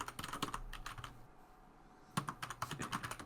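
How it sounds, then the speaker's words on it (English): Rapid keystrokes on a computer keyboard in quick irregular bursts, a short pause in the middle, then more clattering taps, close and fairly quiet with no talk. "Enjoy this ASMR typing sound."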